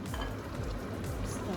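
Green olives, capsicum, carrots and chilies go into a frying pan of goat caldereta, giving a dense, continuous sizzle and stirring rustle with faint clinks of cookware.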